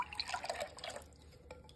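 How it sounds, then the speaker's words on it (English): Evaporated milk poured from a can into pumpkin puree in a baking dish for a dump cake, a short close glugging, splashing stream that tapers off after about a second into quiet. "we have 16 ounces of evaporated milk that we're gonna pour into it"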